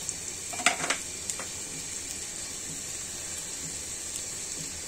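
Whole spices, black cardamom, star anise and white cardamom, sizzle in hot oil for garlic khichdi: a steady bright hiss with a few sharp crackles and clinks near the start, close and fairly quiet, with no talking.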